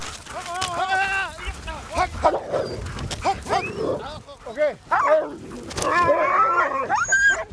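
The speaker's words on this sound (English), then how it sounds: "It's a real struggle, even for the powerful Greenland dogs." Several Greenland sled dogs howl, yelp and bark excitedly together, a noisy overlapping chorus of whining cries that rises and falls.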